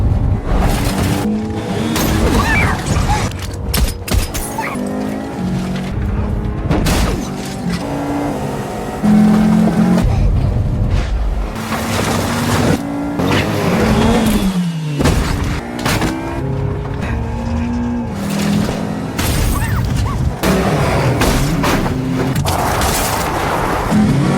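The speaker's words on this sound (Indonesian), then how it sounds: "Aksi kejar-kejaran brutal pun pecah di jalanan sempit pinggiran kota Skotlandia" A brutal film car chase through narrow streets on the outskirts of a Scottish town: engines roar continuously, punctuated by heavy booms and screeching tire squeals, loud and dense throughout.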